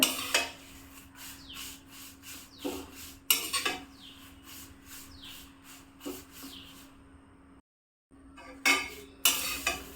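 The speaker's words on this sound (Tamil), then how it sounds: "இப்போ இதில் நம்ம கருவேப்பிலையை போட்டு நல்லா வறுத்தெடுக்கணும்" Curry leaves dry-roasting in a pan over very low heat, with dry rasping scrapes and rubbing strokes of a spoon against the pan in bursts, a brief pause, then more scraping.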